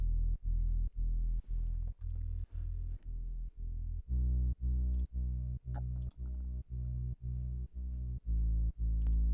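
A deep, sustained sub bass synth note sidechained to the kick, pumping rhythmically and ducking sharply on every beat in a steady, even pulse with nothing else playing.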